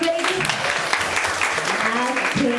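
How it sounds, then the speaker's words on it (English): A dense wash of clapping from the audience at a grade 10 classroom debate runs steadily throughout, mixed with overlapping voices and calls that rise and fall beneath it. "A round of applause for everybody."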